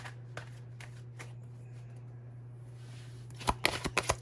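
A deck of tarot cards is shuffled near the microphone, with soft riffles early on and a crisp burst of quick card flicks at the end over a low steady hum.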